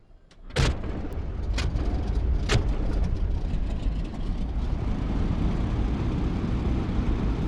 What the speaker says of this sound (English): hold the starter switch to energize for 15 to 20 seconds